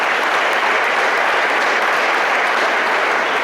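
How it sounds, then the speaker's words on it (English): An audience applauds steadily and loudly at a hall of fame induction ceremony, dense continuous clapping filling the whole stretch without pause or voices. "Give an applause for Tina."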